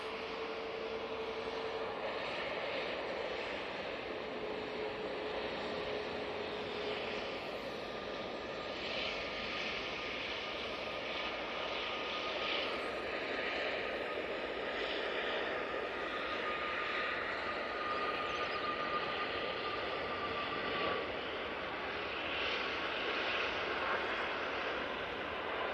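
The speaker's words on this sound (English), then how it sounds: "And that Ryanair is off to Milan." A Ryanair airliner departs Manchester Airport for Milan, a steady broad jet roar held at moderate distance for the full stretch, with a faint tonal whine drifting through it and no voices.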